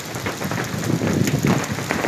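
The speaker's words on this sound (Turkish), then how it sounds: "Dolu yağır, dolu sel gidiyor ha." Hail pours down in a storm over Güneşli village in Ulaş, Sivas, making a dense, loud, continuous clatter and hiss with rumbling underneath and no pause throughout.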